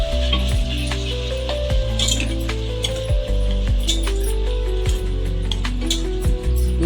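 Chopped tomatoes stirred into a bottle gourd curry in a pan, sizzling under repeated ringing metallic clinks and scrapes of a ladle against the vessel, loud and close, with no voices.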